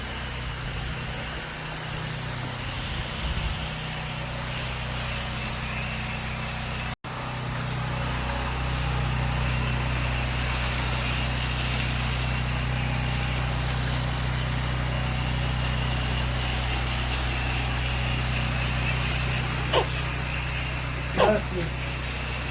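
A pressure washer sprays house wash solution over the outside of a house, giving a loud, steady hiss over a low engine drone that drops out briefly once before resuming.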